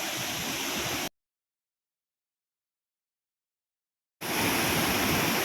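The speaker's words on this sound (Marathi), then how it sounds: "आणि हा धबधबा, इथे" A waterfall in Bali roars as a dense, steady rush of falling water, loud and close, cut off by a stretch of complete silence before the roar resumes.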